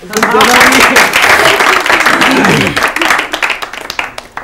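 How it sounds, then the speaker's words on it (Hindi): Studio audience on an Urdu-language quiz programme applauds the contestants, a loud burst of clapping that swells early and then thins into scattered claps as it fades, with a host's voice mixed in. "हम आपके लिए ताली बजवाते हैं इन सबसे"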